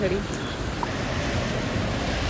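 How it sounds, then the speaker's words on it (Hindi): Steady rain falls during a roadside halt on a motorcycle ride from Rishikesh to Devprayag, a continuous broadband wash with an even level throughout and no clear voices. "बारिश आ रही है"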